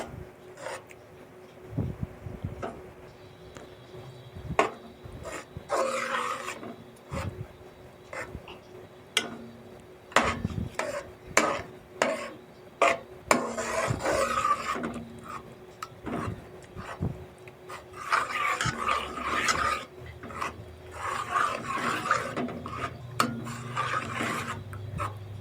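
Khoya and milk being stirred in a karahi, a repeated scraping, rasping rub of a spoon against the pan in uneven strokes, close and fairly loud with no talk.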